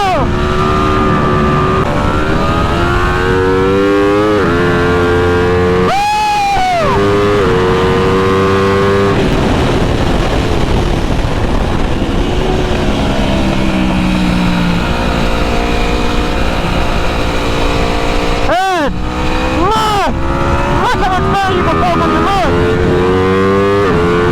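An Aprilia motorcycle engine revs hard around the Arizona Motorsports Park track, rising and falling steadily through gear changes and sounding loud and close throughout, with a person talking over it.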